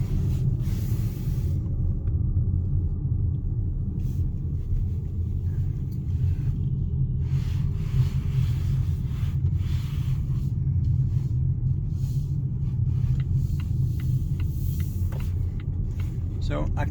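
An electric car, a Polestar 2 or Volvo C40, loops around a roundabout, heard as a steady low road rumble from inside the cabin, with faint talk and occasional small clicks over the hum.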